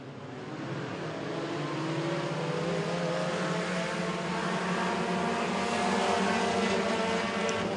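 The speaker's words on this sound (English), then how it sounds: "15 laps of front wheel drive racing action" Front-wheel-drive mini stock race cars run at a speedway in a continuous, loud wash of engine roar that swells slightly as the pack passes, with no talk.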